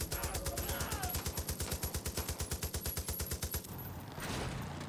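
Rapid automatic gunfire in the video game Far Cry New Dawn, a dense, evenly paced stream of loud shots that runs for several seconds before cutting off into a softer rumble.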